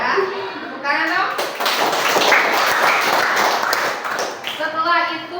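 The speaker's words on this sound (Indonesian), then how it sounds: "Tepuk tangan dong" Junior high school students in an Islamic school classroom break into a loud burst of hand clapping lasting a few seconds, with children's voices and a teacher talking just before and after.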